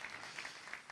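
A church congregation claps in steady applause, faint and at a distance, filling the short moment without any voices on top.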